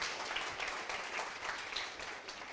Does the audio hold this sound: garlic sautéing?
no